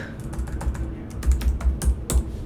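Rapid keystrokes on a computer keyboard as text is typed into a file, a run of close, crisp clicks with a denser burst toward the end, no voices.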